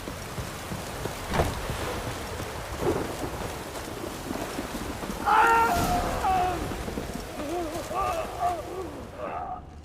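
Thunderstorm with steady rain in The Witcher 3, Fyke Isle: a continuous hiss of rainfall with low rumbling thunder swelling midway, plus scattered tonal game sounds near the end.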